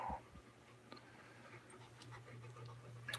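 A dog pants quietly and steadily nearby, its soft rapid breaths continuing over a low constant hum, with faint scratching in between.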